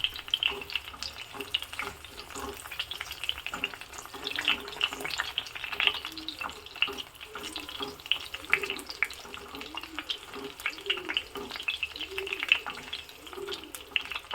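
Eggplant fries in coconut oil in a pan, a soft, steady sizzle with faint stirring clatter and watery crackle, fairly quiet and close.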